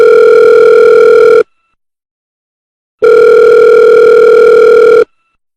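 Ringback tone of a phone call in The Sims 4, two long, loud, steady electronic tones each about one and a half seconds, separated by a silent gap, clean and alone.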